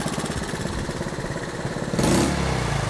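A three-wheeler's engine runs close by after a carburetor rebuild, a loud continuous rough putter that swells into a fuller, harder roar for the last second as the throttle opens.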